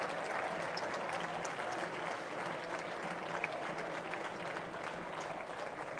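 A Barcelona audience applauds castellers after a completed human tower, with steady, dense clapping from a large crowd that holds evenly throughout, continuous and fairly distant.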